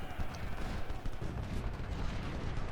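Napoleon cannon fire in Ultimate General: Civil War, a Civil War battle game, with dense rumbling artillery and gunfire blending into a continuous loud battle din.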